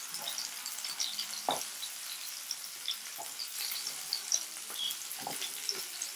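Chicken tikka resha kebabs fry on low heat in a pan, giving a soft, steady sizzle with occasional light clinks and turning sounds, close by and without speech.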